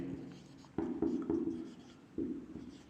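Chalk or marker strokes on a classroom board during a mathematics lecture, a handful of short scratchy strokes in bursts, close and fairly clear, with the teacher's voice speaking over them.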